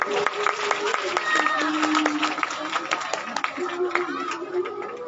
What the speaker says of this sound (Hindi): हम तालियां बजाएं भाई आप लोग।